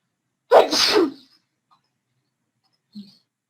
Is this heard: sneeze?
yes